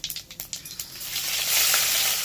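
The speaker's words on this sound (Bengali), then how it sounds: "এবার এটাকে একটু ভেজে নেব এবার এর মধ্যে দিয়েছি পেঁয়াজ কুচি" Chopped onion hits hot oil with whole cumin, cardamom and cinnamon, starting with a few sharp spattering pops and swelling into a loud, steady sizzle.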